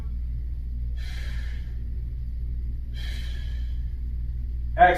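Breathing during a stick mobility workout: two short, soft hissing breaths about two seconds apart over a steady low hum, followed by a brief sharper sound at the end.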